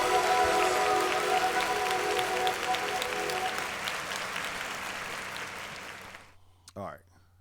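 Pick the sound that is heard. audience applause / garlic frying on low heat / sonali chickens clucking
audience applause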